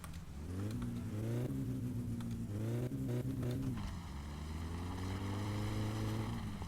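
A car engine revs in the driving game My Summer Car, with a steady loud droning tone that rises and falls in pitch several times over the span, close and continuous with no talking.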